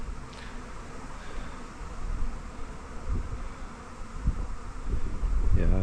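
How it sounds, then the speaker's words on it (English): A good-sized honey bee swarm at an apiary buzzes steadily and densely close by, a continuous drone that swells slightly toward the end, with no talking. "Yeah, that is a good size swarm."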